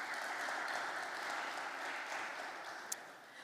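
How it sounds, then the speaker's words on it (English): An audience at a Namibian local content conference claps steadily for a panelist, a dense, even wash of applause that tapers slightly toward the end. "Can we please give her a round of applause?"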